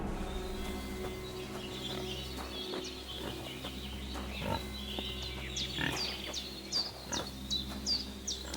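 A pig in the medieval game Kingdom Come grunting and oinking in short bursts over a steady low hum, with birds chirping and tweeting in the background.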